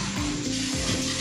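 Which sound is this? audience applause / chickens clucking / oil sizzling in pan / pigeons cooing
oil sizzling in pan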